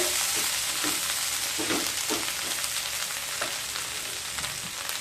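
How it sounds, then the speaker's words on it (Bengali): Ginger paste, chilli powder and other spices fry gently over low heat, a steady close sizzle broken by soft scraping strokes of a spoon stirring the pan, with no voices. "লো স্টিমে মশলাগুলোকে খুব ভালোভাবে কষিয়ে নিতে হবে"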